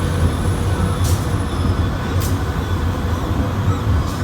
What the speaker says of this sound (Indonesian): Ini kebetulan lewat kereta.